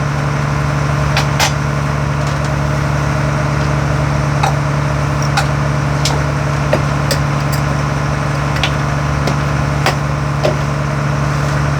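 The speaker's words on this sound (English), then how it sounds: "the engine noise is quite loud" A boat engine drones loud and steady, close by, on a trip through Northern Georgian Bay near Pointe au Baril, with a constant low hum and occasional light clicks and knocks over it.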